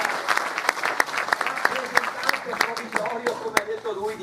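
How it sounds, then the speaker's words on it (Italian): Applause from a public meeting crowd in Treviso, a steady clatter of many hands with sharper individual claps standing out, while a voice keeps speaking underneath. "E quindi un applauso a Smuschi,"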